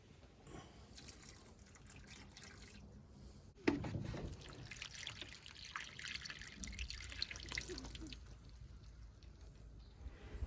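Sambucus nigra 'Black Lace' cuttings are watered in a garden, a thin trickle and patter of water that starts with a sudden splash partway through and keeps running softly and steadily to the end.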